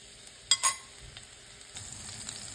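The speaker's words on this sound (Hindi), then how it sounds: "तड़के में थोड़ा सा क्यूमन सीड, जीरा और ये ग्रीन चिली और गार्लिक को डाल देंगे" Cumin seeds, green chili and garlic dropped into hot tempering oil: a couple of sharp spits and crackles near the start, then a quieter continuous sizzle, close and fairly faint, with no voices.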